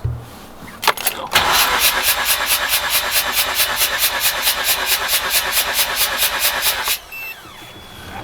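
A Mazda RX8 rotary engine cranks on the starter during a compression test, a steady rapid pulsing chug lasting about six seconds, loud and close, with a brief click before it starts and quiet after it stops.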